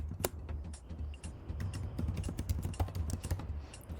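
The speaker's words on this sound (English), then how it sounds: "now we can just write a curl command" Rapid, uneven clatter of fingers typing a curl command on a computer keyboard, close and fairly quiet, with irregular key strikes and short pauses and no speech.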